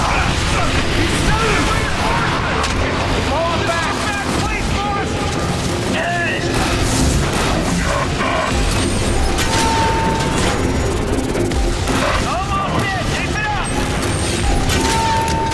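Artillery barrage and battle din in The Bureau: XCOM Declassified, dense continuous explosions and mechanical clatter filling the whole stretch, loud and unbroken, with shouted voices mixed in.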